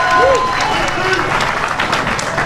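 Audience applause and crowd noise at an outdoor-style ribbon cutting ceremony for the Auburn Gresham Apartments, a steady dense clatter of many hands that holds at even strength for the whole stretch.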